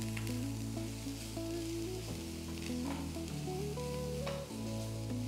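Cabbage and mixed vegetables sauté with pepper powder in a pan, a steady, close sizzle with stirring running throughout, under a continuous tonal music bed.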